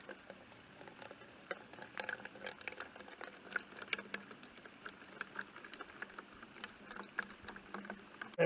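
Water trickling and dribbling through a portable filter into a bottle outdoors on a hike, a faint, steady bubbling patter with small splashes close by and no talking.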